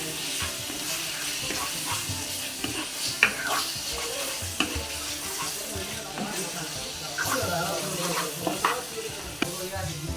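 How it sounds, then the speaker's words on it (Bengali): Chicken stir-fries with spices on a low flame, giving a soft, continuous sizzle broken by the scrape and knock of a spoon stirring the pan, close by and steady throughout. "দিয়ে আমি মশলার সঙ্গে ভালো করে কষিয়ে নেব"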